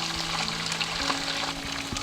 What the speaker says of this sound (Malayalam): ചിക്കൻ നന്നായിട്ട് ഫ്രൈ ആയി വന്നിട്ടുണ്ട്.